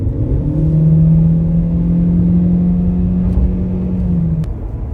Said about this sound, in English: the motor sounds a little bit like a coffee grinder